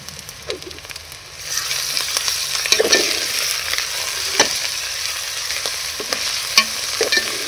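Onions fry with ginger-garlic masala in a pan, a steady close sizzle broken by scraping stirs and small pops and spatters throughout.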